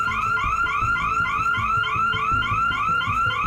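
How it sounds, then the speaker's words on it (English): An electronic alarm going off in a rapid repeating warbling pattern, steady and continuous, with low thumps and background noise underneath. "it was definitely a little nerve-wracking at that moment with that alarm going off"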